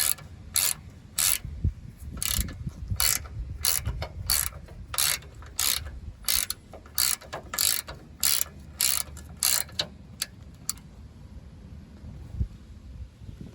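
A ratchet wrench clicks in rapid bursts while the shock absorber bolts on a Ford Ranger's front suspension are tightened, with short runs of clicking repeated back and forth, close and clear with no talk.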